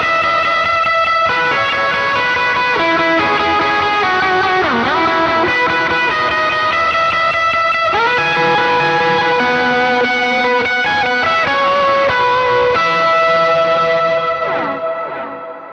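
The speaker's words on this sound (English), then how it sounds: "next in the chain is the JHS Morning Glory set on the higher gain setting" Electric guitar through a JHS Morning Glory overdrive pedal on a high-gain setting, playing sustained distorted chords and ringing notes with echo and reverb, loud and alone.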